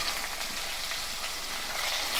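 Eggplant sizzles and fries steadily in a pan, a dense, even crackling hiss that stays close and loud throughout with no voices.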